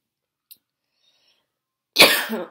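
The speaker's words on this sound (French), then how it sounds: "Une crise de toux juste à la fin de ma vidéo" After a faint click and near silence, a single harsh, close burst of coughing erupts near the end, loud and raspy.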